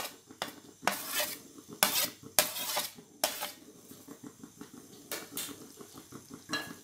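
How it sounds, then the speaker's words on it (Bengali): A ground cashew mixture for kaju katli is stirred in a pan over a low flame, with loud, close metal scrapes and clanks coming in uneven bursts and lighter scraping between them. "এবার সমানে নেড়ে যেতে হবে।"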